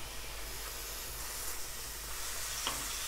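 Mushrooms frying in oil give a steady, close broadband sizzle throughout, with a brief stir or clatter near the end and no voices.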